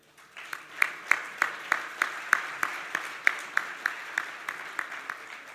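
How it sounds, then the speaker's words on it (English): Sparse, distinct hand claps ring out in a steady rhythm, about three per second, fairly faint and distant, like a small audience applauding at a boxing convention's opening ceremony in Thailand. "So one more applause, please."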